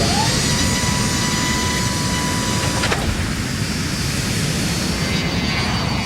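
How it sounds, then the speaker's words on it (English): A loud, steady jet engine roar from a Birgenair airliner taking off fills the whole stretch, a broad rushing drone with a brief high whine near the start, no voices. "At 11:42, the plane takes off."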